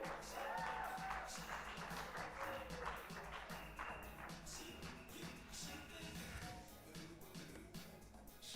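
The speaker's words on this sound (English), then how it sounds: "Clap for Doreen." A graduation audience claps for a fellowship graduate, a steady patter of many hands that stays fairly faint and distant throughout.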